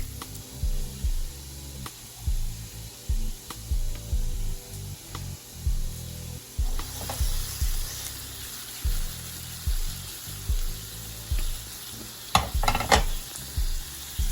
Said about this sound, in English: Let's add our garlic, and we're gonna cook just until we start smelling the aroma of the